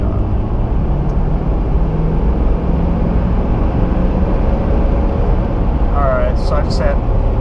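A GMC Denali HD pickup fitted with an S&B air intake roars loudly and steadily as it accelerates hard, a dense, continuous engine and road drone, with a voice briefly heard over it near the end.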